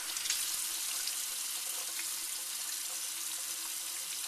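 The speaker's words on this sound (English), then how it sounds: "And just kind of cup them in your hands and rinse them off." Tap water runs over soba noodles being rinsed by hand in a sink, a soft, steady hiss of flowing water with faint splashes and no talking.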